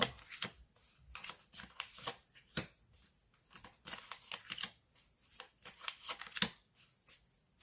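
A deck of tarot cards is shuffled by hand for a reading, heard close and alone as a quick series of crisp riffling bursts and soft slaps, over and over.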